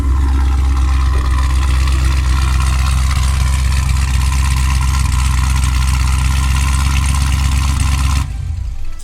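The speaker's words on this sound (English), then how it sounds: "We'll go ahead and open that exhaust." Loud, close Camaro engine idling with its active exhaust opened on an essentially straight-piped system, a deep steady throbbing rumble that drops away abruptly near the end.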